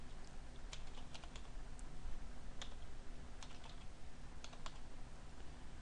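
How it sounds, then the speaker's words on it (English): Password typed on a computer keyboard, quiet irregular key clicks in short bursts and pauses over faint room hiss, close and alone without speech. "type your password."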